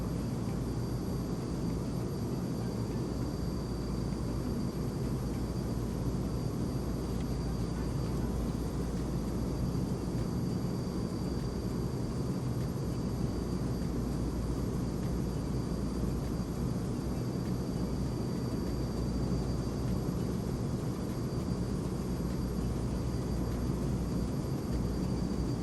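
Black Square King Air analog turboprop taxiing toward a runway in Microsoft Flight Simulator 2020, a steady loud engine drone and low rumble with a faint high whine, continuous and unbroken, no voices.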